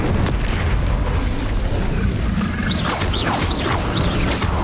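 Repeated fire and blast spells from Hogwarts Legacy, Confringo and Bombarda, boom over a dense, loud game mix, with bright crackling bursts stacking in the second half.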